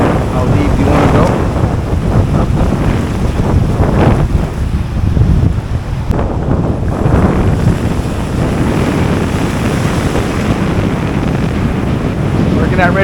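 Strong gusts buffet the microphone out on open Jamaican sea waters from a small fishing boat, a loud continuous rumble with surging swells and splashing waves underneath, and a voice talks intermittently over it.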